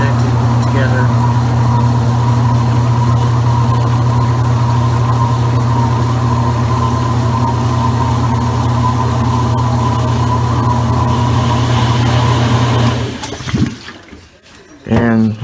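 A Maytag washing machine's agitator spinning, a loud steady motor hum and churning drone that runs for about thirteen seconds before cutting out into clunks and a brief resurgence.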